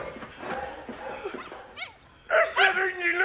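A dog barks and whimpers in a comedy film scene: soft whines and yips first, then louder, nearer barks toward the end, with little talk.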